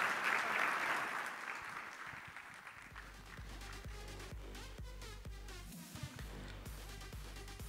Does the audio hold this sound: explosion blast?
no